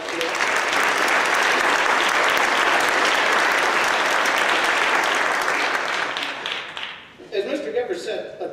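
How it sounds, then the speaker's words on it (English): Audience applause fills a school academic awards ceremony, a loud, dense, steady clapping that carries for about seven seconds before tapering off, followed by a few scattered claps. "give another round of applause for that"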